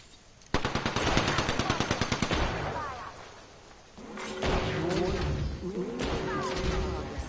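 Video game gunfire crackles in rapid automatic bursts, loud and close, with a second stretch of shots and thuds later under a voice speaking.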